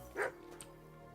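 A dog in Kingdom Come: Deliverance gives a single short bark or yip, near and clear, followed by quiet game ambience.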